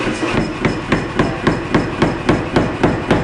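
A hammer forges a Wootz steel knife blade, striking in a steady regular rhythm of about three blows per second, close and loud with no talk.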